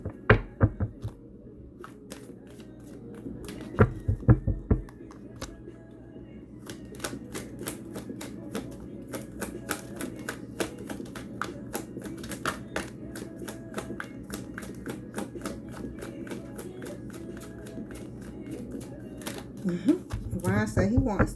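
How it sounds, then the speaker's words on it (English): A tarot deck being shuffled up close: a long run of dense, crisp clicking and ticking as the cards riffle, quiet at first and then steady and continuous for most of the stretch. "So I wanted a good shuffle."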